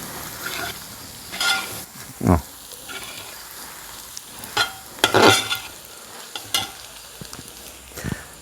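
Turmeric and garam masala spices sauté in a hot pan for a Kerala-style golden chicken, with a low background sizzle broken by sharp, intermittent scrapes and clatters of stirring.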